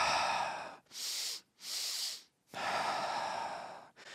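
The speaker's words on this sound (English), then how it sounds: "two short inhales followed by a prolonged exhale" A person breathes in a deliberate pattern: two short, sharp inhales through the nose, then a long, steady exhale, repeated once and starting again at the end, close and breathy with no talking.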